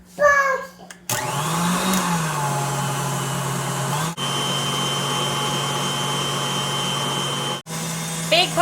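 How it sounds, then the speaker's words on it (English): Stand mixer on high speed kneading molasses-oatmeal bread dough with a dough hook: a steady, loud motor whir drones on, cutting out and restarting twice, with a brief voice at the start. "I am going to beat it on high speed now for 3 minutes with the bread hook still"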